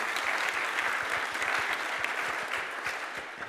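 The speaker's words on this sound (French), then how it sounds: "Je vous demanderai de les applaudir, M. Louvet et M. Rouillet, qui sont dans la salle" An audience in a hall applauds two jury members, a full, even patter of many hands clapping throughout, close and steady with no voices on top.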